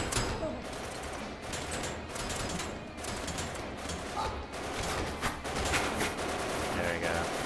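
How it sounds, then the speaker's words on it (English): Enemy gunfire in the video game Kinki Spiritual Affairs Bureau crackles in rapid bursts, volleys of shots layered over a steady noisy background, with a voice speaking intermittently underneath. "Okay, they are shooting me."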